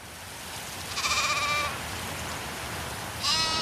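Sheep bleat twice, close and clear: one longer wavering bleat, then a short one a moment later, over a quiet outdoor background.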